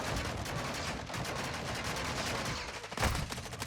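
Rapid gunfire from Modern Warfare 2 multiplayer rattles in dense, continuous bursts at close range, with a sharper burst near the end and no talking.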